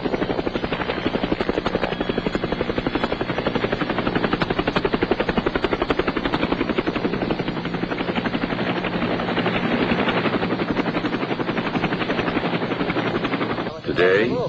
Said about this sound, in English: Today, the sound of a helicopter usually means one thing.